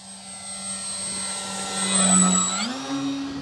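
An FMS PA-18 Super Cub RC model airplane with a 1.7 m wingspan whines steadily on a runway takeoff run. The tone rises sharply in pitch and grows louder as the throttle opens.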